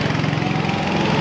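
A go-kart engine running at the Lonato karting track, a steady buzzing drone that stays loud and even throughout, with no talking.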